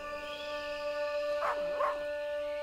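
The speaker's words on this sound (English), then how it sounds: "It's a dog." A dog in the video game Maid of Sker lets out a couple of short, wavering howl-like whimpers over a steady droning game ambience.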